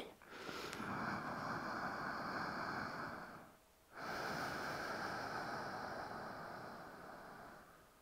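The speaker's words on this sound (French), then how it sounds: "Et à rentrer dans la respiration Ujjayi." Slow, steady Ujjayi yoga breaths, each a long ocean-like rasp through a constricted throat, close and loud, with a brief pause between inhale and exhale.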